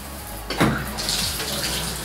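Water rushes steadily from a shower head fitted with an AquaBliss heavy-duty shower filter, a continuous hiss with a brief louder surge early on and no talk.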